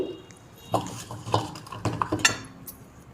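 Chickpea avakaya pickle being made: a glass scoops ingredients into a container, giving a few close clinks, scrapes and taps against the vessel at irregular moments in a quiet kitchen.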